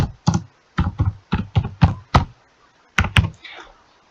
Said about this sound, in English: Okay, let me type it.